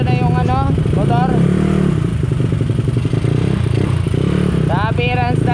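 A Yamaha Mio scooter engine runs nearby, a loud steady rumble with clattering and scraping, while someone talks over it at several points.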